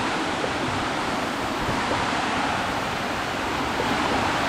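Pundaquit Falls, a waterfall at a campsite in Zambales, gives a steady, dense rush of flowing water that stays loud and unbroken throughout.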